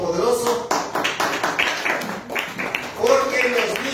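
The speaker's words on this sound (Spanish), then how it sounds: "le damos un aplauso a nuestro Dios Todopoderoso" A church congregation claps after a call to applaud, the hand claps coming as a scattered, uneven patter of taps close by, mixed with voices talking and calling out over it.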